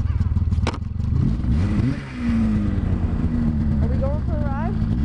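A snowmobile engine starts up and revs in blizzard conditions, a loud, close rumbling idle that surges and climbs in pitch several times toward the end, with no talk over it.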